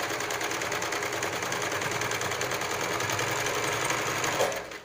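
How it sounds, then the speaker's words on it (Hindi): A sewing machine stitches a jute carry bag in one steady, close run of rapid mechanical chatter that lasts almost the whole stretch and then stops near the end. "एक बार फिर दो बार सिलाई कर देंगे"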